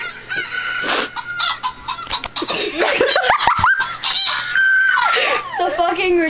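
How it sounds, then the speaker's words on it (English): A rooster crows several times nearby between and over excited voices, laughter and shouting, its calls rising and falling in loud bursts. "There's a rooster."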